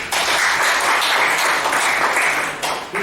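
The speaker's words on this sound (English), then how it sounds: "Please welcome and clap a bit" Audience clapping at a Toastmasters club meeting, a loud, even burst of applause from a room of people lasting a few seconds before tapering off.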